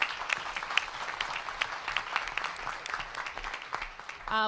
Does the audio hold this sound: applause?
yes